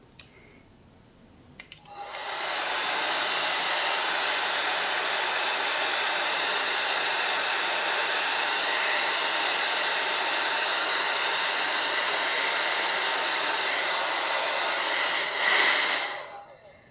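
A hair dryer blow-drying a beard switches on and runs as a loud, steady, close whoosh for about fourteen seconds, briefly changing pitch near the end before cutting off, with no speech.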